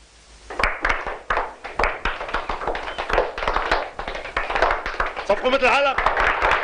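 Children clap their hands in quick, uneven bursts of sharp slaps, close by and fairly loud, with voices talking over the clapping toward the end.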